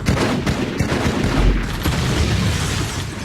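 Rapid automatic gunfire from twin bullet-hose weapons in the Halo 2 video game, a dense continuous burst of loud close shots that runs through the whole stretch without pause.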